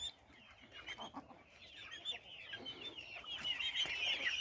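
Chickens and chicks cluck and peep close by as they head into the coop, with a cluster of soft clucks early on and rising, busier high cheeping toward the end.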